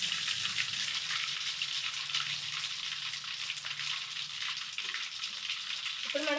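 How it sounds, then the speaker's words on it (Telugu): Cumin seeds crackle and fry in hot oil after mustard seeds, a dense steady sizzle throughout, close and loud, with no one speaking. "ఇప్పుడు ఒక 2 స్పూన్ల జీలకర్ర వేసుకుందాం."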